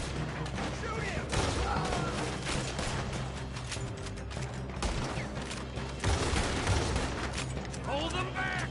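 Dense gunfire from a Red Dead Redemption 2 shootout, rapid overlapping shots and bursts running steadily throughout with clattering mechanical sounds and voices mixed in.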